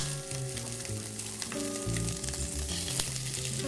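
Redfish fillets sear skin side down in hot olive oil, giving a steady, loud sizzle and crackle of frying that runs throughout with no talking.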